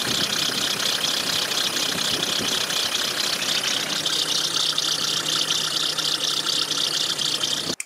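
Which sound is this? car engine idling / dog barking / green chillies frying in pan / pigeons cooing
car engine idling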